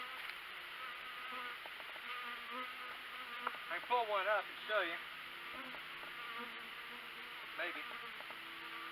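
Honey bees hum and buzz steadily around an open beehive at close range, a continuous insect drone, while a person speaks briefly partway through.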